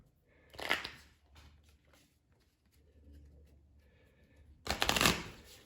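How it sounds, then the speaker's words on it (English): Playing cards shuffled and mixed together for a Galactic Heroes card game, two loud riffling bursts separated by quieter handling and faint background noise. "we're gonna take all the cards, even the ones that I played, mix them all together"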